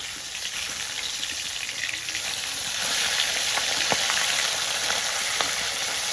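Fish frying in a hot pan just after being flipped gives a loud, dense, continuous sizzle that swells slightly partway through, with a couple of faint clicks and no talking.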